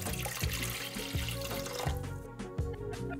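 Water pours from a cup into a bread machine pan while pizza dough is being started, a steady splashing, gurgling stream lasting a few seconds, close and alone.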